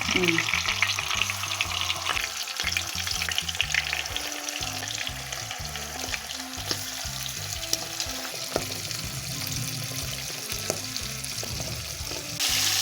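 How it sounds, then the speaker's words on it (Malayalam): Masala-marinated fish pieces fry in hot oil with curry leaves, a steady crackling sizzle broken by clatter and scraping as the pieces are placed and stirred in the pan, close and fairly loud. "ഇനി നമുക്ക് മീൻ ഓരോന്നായി വെച്ച് കൊടുക്കാം. നമ്മൾ മസാല തേച്ച് വെച്ച മീൻ"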